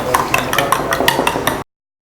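A spoon beats cake batter of egg and vanilla essence in a bowl for a plum cake, giving quick rhythmic clinks and scrapes, loud and close, before stopping abruptly.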